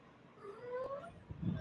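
A house cat lets out a single short, faint meow with a rising-falling pitch, followed by a soft rustling thud nearby.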